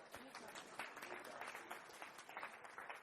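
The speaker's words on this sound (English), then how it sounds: "Round of applause for Anthony." A crowd at a web design conference talk gives a quick round of applause, a continuous, fairly distant patter of many hands clapping throughout, quiet overall.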